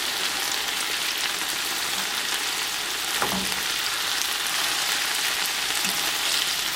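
Lemon honey garlic chicken thighs fry in a pan with a steady, even sizzle throughout, plus a brief clatter partway through as the pieces are turned.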